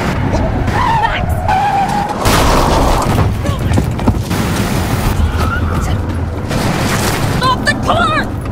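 A car in the video game The Quarry skids hard to a stop with prolonged tire squeal and rumbling engine noise, loud and continuous, while voices shout over it.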